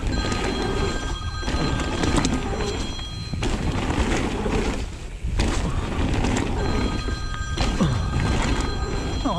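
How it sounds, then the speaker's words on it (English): A phone rings insistently in repeated bursts over loud rumbling background noise, like traffic or machinery close by, at a bike park. "Oh, my phone is going."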